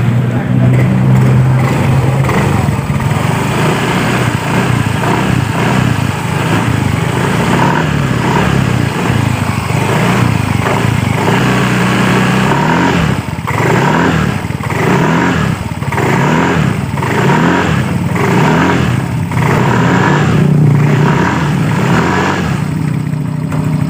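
A Yamaha Mio M3 125 scooter engine runs continuously nearby after a rear brake pad replacement, idling with rhythmic revving pulses, loud and steady.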